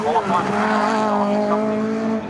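Racing Honda cars at Cadwell Park circuit, a loud close engine note holding a steady high pitch with a slight rise and fall as a car runs wide on a corner exit.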